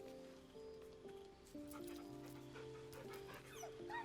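A dog whimpers in Baldur's Gate 3, soft whines and yips rising over a steady bed of in-game music and ambient rustle, fairly close and moderately loud throughout.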